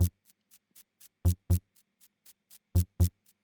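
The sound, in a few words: broken Russian synth sample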